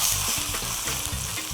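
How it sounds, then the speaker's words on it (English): A pork chop fries in oil in a Maifanshi non-stick frying pan, giving a steady, close, crackling sizzle with low bubbling pops underneath, heard alone throughout. "I like it more when the pork sizzles in the oil"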